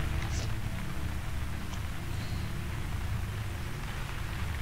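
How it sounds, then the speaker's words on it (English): Steady rain hisses in the video game Myst Online: Uru Live, a dense continuous wash of falling water with faint scattered drops, fairly loud and unbroken, with no talk. "Oh, no, it's raining."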